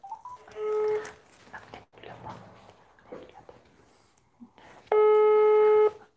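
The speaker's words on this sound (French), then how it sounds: "J'appelle quelqu'un en direct." Telephone tones on a live call, with the microphone placed beside the phone: a short steady tone early on, then a longer loud ringback tone near the end, separated by faint rustling and murmured talk.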